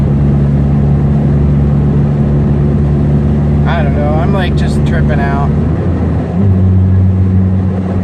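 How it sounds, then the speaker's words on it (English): A Subaru turbocharged engine with a very loud exhaust drones steadily from inside the car, its pitch shifting near the end, while a person speaks briefly over it. "We can hear turbo noises though."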